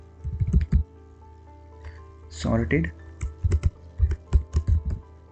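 Keys clatter on a computer keyboard while Java code is typed, coming in quick bursts of clicks between stretches of someone talking over them.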